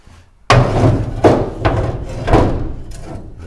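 Several loud, sharp strikes of a medium-sized hammer on a metal bar ring out close by, four or five blows spaced unevenly over a few seconds, each with a short metallic decay.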